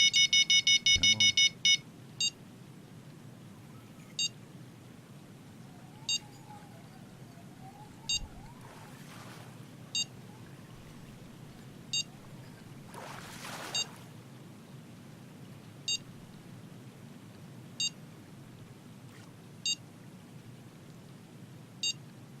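Repeated short electronic beeps from a fishing rod bite alarm in the Fishing Planet video game, striped bass fishing at night in California, a rapid burst at first, then single beeps spaced about two seconds apart over a low ambient background.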